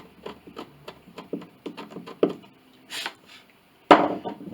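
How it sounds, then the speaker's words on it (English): Chisel shaving wood and old finish from an 1867 Chickering piano, a series of short scraping and cutting strokes in an uneven rhythm, close and fairly quiet, ending with a louder sharp scrape. "Then we take a little bit of chisel to take a little wood out there"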